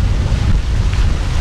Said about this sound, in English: Oh yeah, we picked up a gust here.